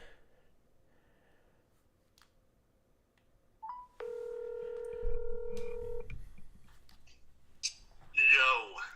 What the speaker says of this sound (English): Eric, can I call you? I don't want to get put to voicemail again.